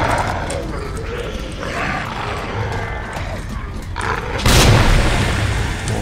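A grenade explosion in Resident Evil 2 Remake, a heavy booming blast near the end over a loud roaring, growling creature and game noise.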